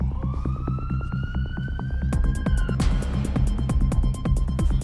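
An ambulance siren wails close by, first rising in a long sweeping tone, then switching to a fast repeating yelp over a steady rumbling background.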